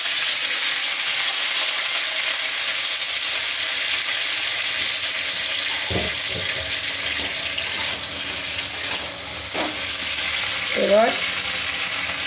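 Seeded banana pieces frying in oil with nigella seeds in a wok for a spicy vegetarian dish: a steady hiss of sizzling throughout, broken by a few utensil knocks and a brief voice near the end.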